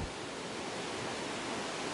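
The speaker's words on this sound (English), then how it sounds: "the water flows from here on underground" Water rushes steadily past a debris catcher into the underground channel of a micro hydro system, a close, even roar of flow with no breaks or voices.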